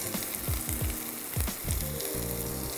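Loud, steady sizzling of vegetables, including carrots, frying in a hot pan, with occasional scraping and stirring knocks close by.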